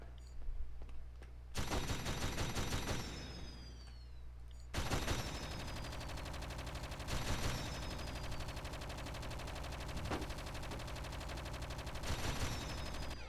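Gunfire in the squad-based action game Project Eden: repeated bursts of rapid automatic shots, each lasting a second or two, over a steady background hum with no voices.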